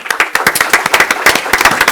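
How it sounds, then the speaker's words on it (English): People at a Brawley city council meeting give a round of applause, loud, close, distinct hand claps in a quick, fairly rhythmic patter from a small group. "Let's give them a round of applause, please."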